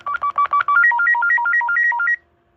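A version 1 model 6329 telephone base ringer gives a rapid electronic warble, alternating two pitched tones in quick pulses for about two seconds, loud and close, then stops.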